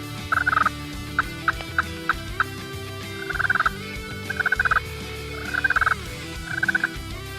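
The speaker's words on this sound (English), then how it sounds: "in comes two gobblers" Two wild turkey gobblers gobble repeatedly in a hunting setting, rapid rattling calls in short bursts that come close together and ring out clearly over a low background.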